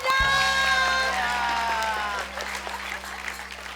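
Studio audience applause breaks out at a comedy show, a loud burst of dense clapping that swells in at once, then thins slightly while continuing steadily, with a little cheering mixed in.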